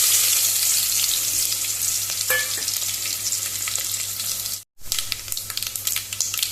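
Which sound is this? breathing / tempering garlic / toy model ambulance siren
tempering garlic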